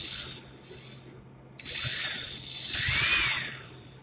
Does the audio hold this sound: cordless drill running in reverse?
yes